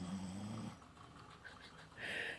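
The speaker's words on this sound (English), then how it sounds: "And now Roxy's snoring." An animal snoring softly nearby, a low rasping breath followed by quieter breathing and a faint wheezy exhale.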